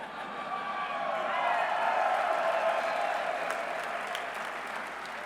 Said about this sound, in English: We got people cheering for the dogs here